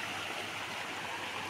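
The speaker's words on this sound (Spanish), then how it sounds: "podemos ver cómo va muy buena corriente en el río" A river in Nuevo León runs with a strong current about a week after Tropical Storm Alberto, a steady, dense rush of water with no let-up and no voices.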